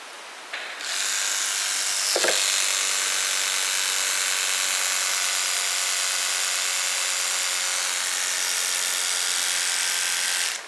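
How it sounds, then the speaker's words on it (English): A basic Oral-B electric toothbrush switches on and spins with a steady bright buzzing whir that holds loud and unbroken for about ten seconds, close up and alone. "the toothbrush just spun in a circular motion"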